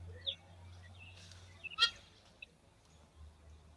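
A hamerkop at a Kenyan waterhole gives a few short, sharp squawks over faint steady background hum, with a brief harsher burst near the middle.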